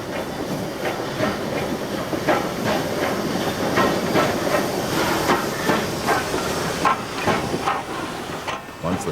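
A steam train pulls into Mount Barker Station, its loud, steady hiss of steam running through the whole stretch with a rhythmic clatter of wheels over the rails beneath it.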